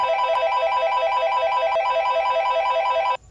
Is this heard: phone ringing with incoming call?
yes